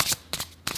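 Tarot cards get shuffled close to a microphone in three quick riffling bursts with short quiet gaps between them, crisp and near.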